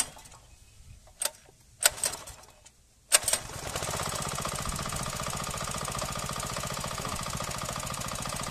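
A garden cultivator engine, warmed by quick-start fluid, sputters through a few sharp clanks, then catches and settles into a steady, rapid, close-up mechanical chatter that runs without pause.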